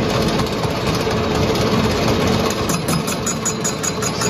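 A lathe knife-edging a crankshaft on a 2mm cut gives a loud, steady, continuous machine drone and vibration throughout, with no voices.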